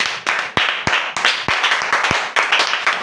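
A church congregation claps together in praise of the Lord, loud and close, with sharp irregular hand claps running through the whole stretch and no voices over them.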